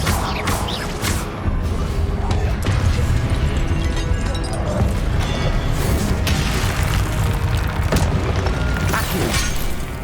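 Fire spells like Incendio blast repeatedly during combat in Hogwarts Legacy, a loud, dense wash of booms, crashes and whooshing bursts that roars on without a break.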